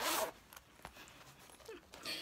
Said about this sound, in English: It's got a zipper here.